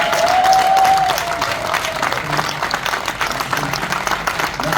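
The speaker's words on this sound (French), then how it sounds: "Est-ce que vous pouvez m'aider à applaudir pour ma mère qui est avec nous ce soir?" Comedy show audience applauding from the room, a dense steady clapping that swells early and then carries on evenly, with a faint sustained tone sounding during the first seconds.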